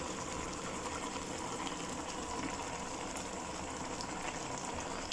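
Oil poured over cooked potatoes and eggplant in a pan sets off a steady, even sizzle, close and moderately quiet, continuous frying hiss throughout.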